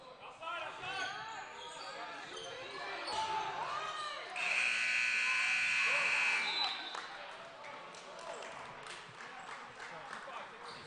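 An end-of-period horn at a high school varsity boys basketball game sounds loud and steady for about two seconds, over ongoing play-by-play commentary, crowd noise and the bounce of a ball.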